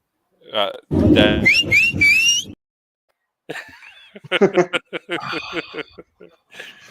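A sports fan's loud, shrill, melodic whistle rings out at a game, with chuckles and chatter from nearby people before and after it.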